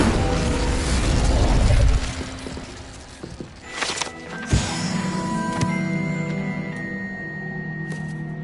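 In a Hogwarts video game, an Incendio fire spell is cast: a rushing burst gives way to a sharp, loud boom with mechanical clatter, then fades into lingering tonal shimmer, with no talking.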